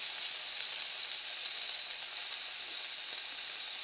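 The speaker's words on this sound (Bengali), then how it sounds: "তা আমি মাছ রান্নার জন্য প্রথমে আদাটা দিয়ে ভালোভাবে ভেজে নেব।" Ginger fries in oil at the start of a pangas fish curry with tomato: a constant, bright sizzle up close, even and unbroken, with faint pops scattered through it.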